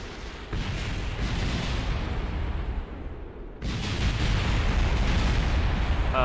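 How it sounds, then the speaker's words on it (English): Explosions from the spacecraft video game Kerbal Space Program, a dense, loud roar of rumbling blasts that keeps going for several seconds, with a sharp new burst partway through and no talking. "Ooh, we've got some explosions."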